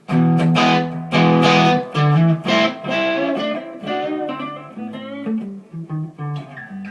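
Electric guitar with crunchy overdrive playing a bluesy phrase of strummed chords and single notes, loud and close, with no talking.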